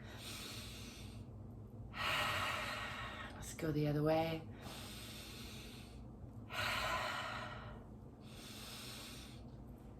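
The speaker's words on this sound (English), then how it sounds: "Breathing in and exhaling, pushing back." Heavy rhythmic breathing during arm circle exercises, with strong inhales and exhales in repeated bursts and a breathy snort-like exhale in the middle; someone speaks briefly.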